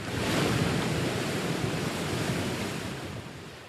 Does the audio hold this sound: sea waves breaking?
yes